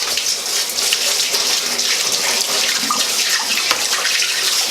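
Tap water runs in a steady, close hiss while hands are washed off during muffin baking, with small splashes breaking the flow and no talking.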